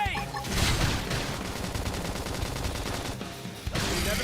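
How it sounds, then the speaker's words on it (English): A flame grenade goes off in the Xenoblade Chronicles X battle, a sustained loud roar of blasts and crackling fire that fills the clip, with a short dip near the end before the barrage resumes. "Flame grenade!"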